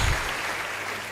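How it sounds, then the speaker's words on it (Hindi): An audience at a live comedy and folk performance event claps for the folk artists, a short burst of dense applause with no one speaking over it. "मैं उन लोक कलाकारों के लिए भी एक तालियां आमंत्रित कर रहा हूँ।"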